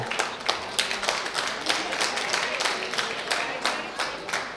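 Audience clapping at a spiritual gathering in Vrindavan, a steady patter of claps filling the hall at moderate loudness with a faint murmur beneath.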